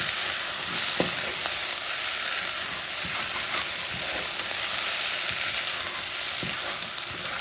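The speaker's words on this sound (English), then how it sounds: "3 minutes later, stir it again." Rice with squid ink cooking over medium heat in a pan, a steady close sizzle and bubbling with a few soft scrapes of stirring, no voices.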